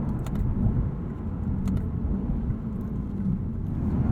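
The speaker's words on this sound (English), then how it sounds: "I actually like this powertrain a lot more than any of the recent M3s because it has that V8" A 2021 Lexus RC F's V8 engine while driving, a steady, loud, low rumble from inside the cabin with faint ticks on top and no talking.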